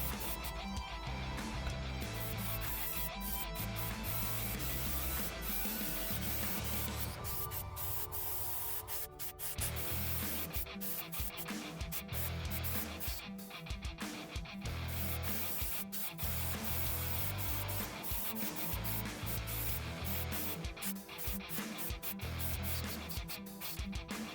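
An airbrush spraying base coat paint onto a 3D-printed statue, a steady close hiss of air and paint running continuously with small variations, under a faint background of music and no talking.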